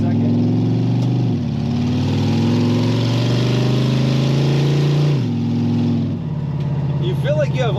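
A 1933 Plymouth 5-window coupe street rod engine pulls steadily, drops in pitch as it shifts up to second gear, then climbs again and drops once more near the end. The engine is loud and close, with faint wind noise.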